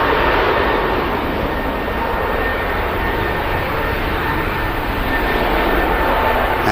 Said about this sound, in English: 350 on the taxi out heading to Vegas